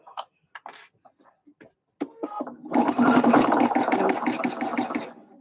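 Sewing machine stitching a cinch bag close to the fabric edge, starting after a few seconds of soft handling noises and continuing as a steady, close, rapid mechanical run to the end.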